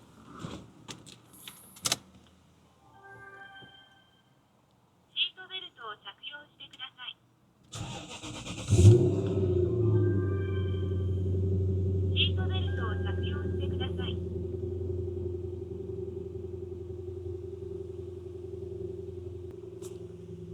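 A car engine cranks and fires with a sharp catch, then settles into a steady, loud idle that runs on to the end. Clicks and short electronic chimes come before it, and people talk over parts of the clip.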